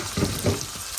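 Chicken pieces frying in a pan with onion, ginger and garlic give a short, steady sizzle with a couple of brief louder bursts as they hit the hot oil.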